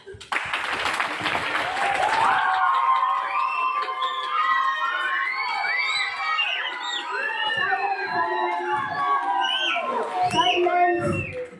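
Audience at a school presidential-style debate between two student candidates cheers and claps loudly, a sustained crowd roar with shouting children and layered voices lasting throughout.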